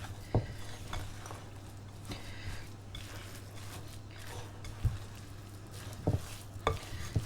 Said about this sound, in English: So we're going to mix that through till all of our golden dry ingredients are